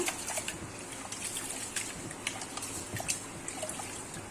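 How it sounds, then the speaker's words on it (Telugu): Thin liquid trickling and splashing as rice-soaking water is poured into containers, a continuous watery dribble with faint clinks and no talk. "ఈ బియ్యము వాటర్ పడేయనండి. పడేయకుండా ఇదిగోండి ఈ డబ్బాలకు పోసుకుంటాను."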